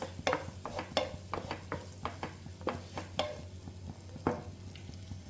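Garlic fries in a pan with a low steady sizzle, broken by sharp scrapes and taps as it is stirred with a utensil in an irregular rhythm, close and moderately loud.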